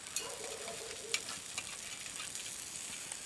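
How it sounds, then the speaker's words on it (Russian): A sausage frying in a pan: a soft, continuous sizzling hiss with scattered small pops and crackles, fairly quiet and heard alone. "Я просто тут сардельку жарю."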